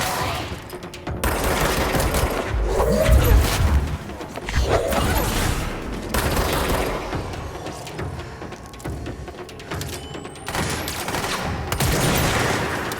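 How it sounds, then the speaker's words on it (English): Dense, continuous gunfire in an Xbox One X video game: sustained automatic fire with overlapping shots and booms, loud and near throughout, with brief lulls between heavy stretches. "He's still shooting at something."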